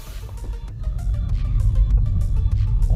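A car engine rumbles low and steady as the vehicle pulls away, its drone swelling slightly and staying close throughout.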